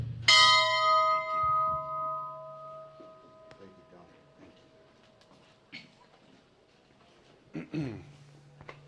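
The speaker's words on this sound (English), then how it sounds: "We ring the bell on behalf of all my Army ruggers." A single bell struck at a military memorial ceremony rings out loudly and decays slowly over several seconds, followed by quiet ambient sounds and a few soft thumps near the end.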